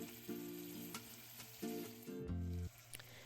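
Vegetables sizzle in a pan with bacon drippings and brown bits, a steady close fry with occasional stirring scrapes and clinks, no voices.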